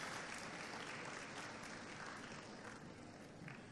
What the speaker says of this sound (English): Let us give him a round of applause again,